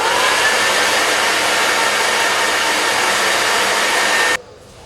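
A hair dryer blows steadily and loudly while drying hair for a roller set, a constant close whoosh that cuts off abruptly near the end, leaving quiet room tone.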